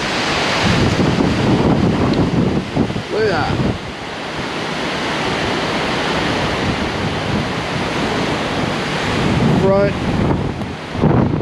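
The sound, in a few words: strong wind during Hurricane Sally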